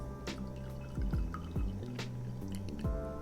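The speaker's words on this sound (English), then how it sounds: "now we can just ladle it into your container of choice" Cooled coffee jelly mixture ladled into glass cups, with several soft liquid drips and plops spaced out over a few seconds, close and fairly quiet, with glassy ringing tones beneath.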